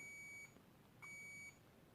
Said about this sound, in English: so you can hear that it beeps. So it means it has to be in short circuit.